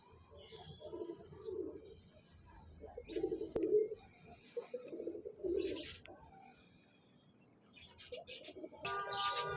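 Pigeons cooing in repeated soft, throaty bursts at close range, several birds overlapping, with faint chirps and small rustles between calls in a quiet setting.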